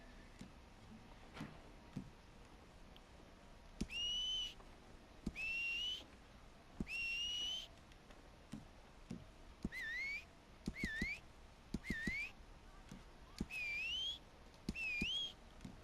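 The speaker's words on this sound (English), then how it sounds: "So there's an absolute plethora of whistling." Rising and bending whistled notes repeat in short phrases from a character customization menu in Red Dead Redemption 2 Online, about ten whistles spaced over quiet background with faint clicks.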